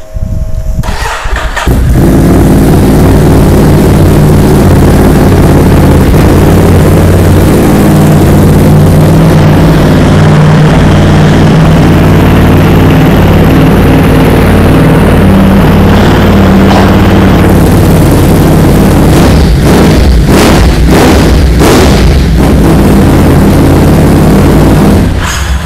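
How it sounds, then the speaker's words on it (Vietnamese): A Ducati Monster 937 fitted with a Monster 795/796 exhaust is started up at a motorcycle shop, cranking briefly and then settling into a loud, deep, close idle, with a few sharp blips of the throttle near the end. "Đây, mình nổ máy cho anh em nghe tiếng máy ha."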